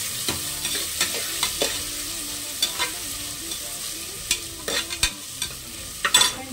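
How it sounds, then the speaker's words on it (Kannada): Mint rice ingredients fry in a pan with a soft steady sizzle. A utensil stirs them in scattered, irregular scrapes and clinks, close up and fairly quiet. "ಚೆನ್ನಾಗಿ ಫ್ರೈ ಮಾಡ್ಕೋಬೇಕು."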